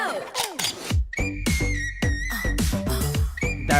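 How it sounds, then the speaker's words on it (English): A bright, sustained whistle tone cuts through a punchy K-pop track, held over the beat alongside rhythmic percussion hits, loud and up front in the mix. "That whistle?"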